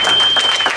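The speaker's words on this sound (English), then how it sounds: "Let's give one more round of applause" A loud, brief burst of audience applause after a motivational talk, with a thin steady whine running through the clapping.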